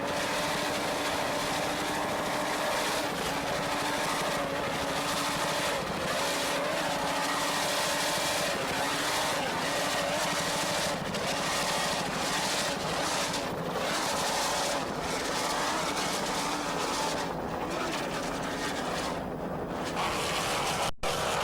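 An offshore racing powerboat with 900 horsepower Stotler engines runs at speed during an offshore world championship race off Fort Lauderdale, a constant loud engine roar mixed with heavy wind and water rush for the whole stretch.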